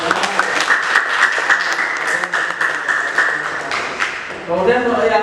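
A burst of clapping and applause from a group fills the room for several seconds, then fades as a voice begins speaking.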